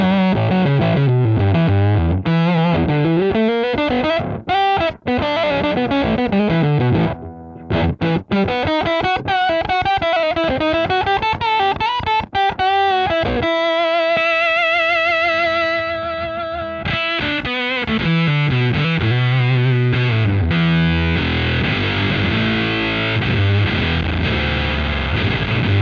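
A heavily overdriven electric guitar through a Crazy Tube Circuits Triptychon tube drive pedal plays sustained chords and sliding notes, thick and saturated, filling the whole passage with no voices.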